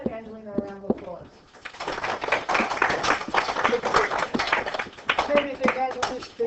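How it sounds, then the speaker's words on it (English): Children in a classroom applaud, a dense burst of clapping lasting several seconds that follows a short spoken phrase and fades as a voice returns near the end. "Give yourselves and Angelina a round of applause"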